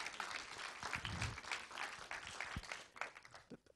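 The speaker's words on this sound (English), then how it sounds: "Let's give the doctor a big round of applause." A small audience at a homeowners' association water presentation gives a presenter a round of applause, a quiet, uneven patter of claps with some voices mixed in.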